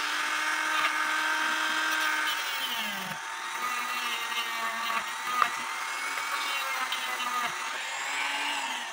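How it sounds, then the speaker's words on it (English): A Dremel rotary tool grinds a flat spot on a Black Forest shield clock from around 1880, giving a steady, close high-pitched whine that holds through the whole stretch with slight shifts in pitch. "before you can drill a hole, you have to work with a flat surface. So that's what this Dremel is for,"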